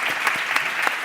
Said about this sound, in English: another round of applause, double round of applause.